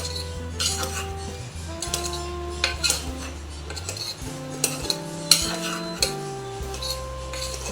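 Mixed vegetables with garam masala are stirred in a pan, with a spoon scraping and clinking against the metal in bursts over quiet background music.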